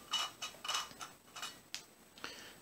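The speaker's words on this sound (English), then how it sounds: "Now this will screw off counterclockwise." A four-piece aircraft-grade metal herb grinder being unscrewed counterclockwise, giving a series of short scraping, ticking metal clicks in uneven bursts, close and fairly quiet.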